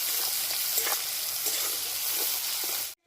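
Something fries until light brown in oil reused from frying rui fish, a steady close hissing sizzle with faint stirring scrapes that continues evenly before cutting off abruptly.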